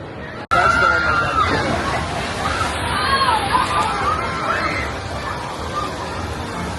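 Continuous rushing, sloshing water at the Bugs Bunny Whitewater Rapids log ride at Six Flags Fiesta Texas, loud and close, with crowd chatter mixed in and a brief dropout near the start.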